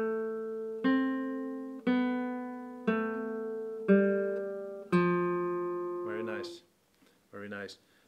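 A beginner's thumb-picked Malagueña on guitar, five separate bass-heavy notes plucked one after another, each ringing and decaying, followed by a few softer, shorter plucked tones at the end.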